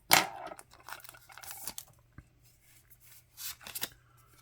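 A dull blade drags and tears through packing tape on a flea-market box of Magic: The Gathering cards, giving a sharp ripping burst at the start and then scattered scraping and crinkling strokes, close up with no talk.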